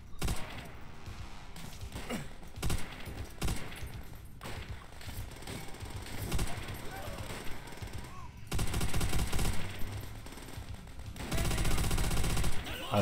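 Rapid gunfire from Call of Duty: World at War, with bursts of machine-gun fire and single shots rattling throughout, getting louder and denser near the end. Voices talk over the shooting at times.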